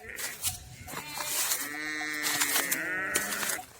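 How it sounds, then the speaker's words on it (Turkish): Ewes with their lambs, kept inside a pen in very cold weather, give several close, wavering bleats that overlap one another, with a few quiet voices in the background. "Ben bu şekilde kuzulu koyunlarımı içeride tutuyorum."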